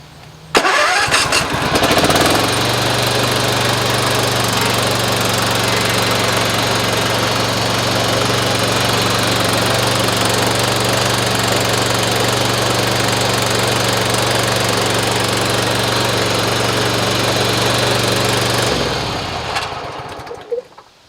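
A Husqvarna zero-turn mower with hydrostatic drive runs steadily after a brief start, its engine holding a loud, constant drone from about two seconds until it cuts off near the end.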